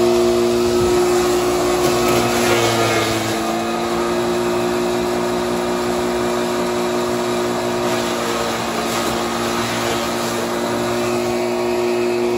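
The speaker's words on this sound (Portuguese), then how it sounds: "a gente acabou de moer a cana aí" A machine grinding sugarcane into cattle feed during a dry season runs as a loud, steady mechanical roar with a constant hum, staying continuous and close throughout with no talking.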